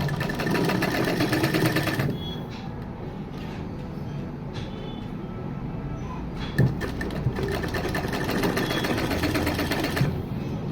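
A sewing machine runs on a corset blouse lining, a close, continuous mechanical rattle and hum that drops slightly in brightness partway, with a couple of small knocks and no talk.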